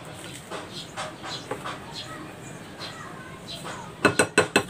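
Mashed potato mixture with grated carrot, parsley and cornstarch mixed in a bowl, soft repeated scraping strokes, ending in four loud clinks of a utensil against the bowl's rim.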